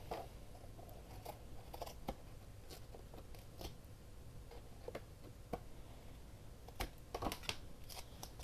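Scissors trim overhanging fabric edges on a handmade bird journal cover, a series of faint, crisp snips and clicks at irregular intervals in a quiet room.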